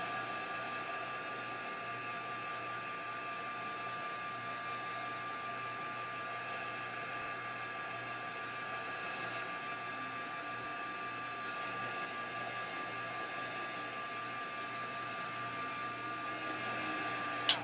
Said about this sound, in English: can you guys hear me okay with the heat gun going while I'm talking?